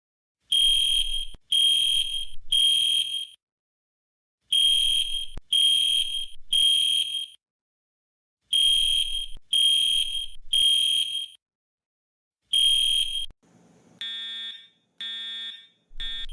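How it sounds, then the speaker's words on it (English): A fire alarm under test sounds in loud triple-beep bursts, repeated four times with short gaps, then switches to a series of sharper, ringing electronic tones at the end. No one speaks. "Well, in that case, let's test the alarm."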